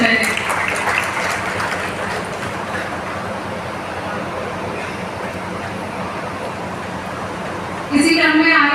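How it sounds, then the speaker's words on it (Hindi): Steady audience applause at a public gathering honouring someone, a continuous wash of clapping that holds evenly for about eight seconds before a louder, sharper burst near the end. "कृपया तालियों से इनका अभिवादन करें।"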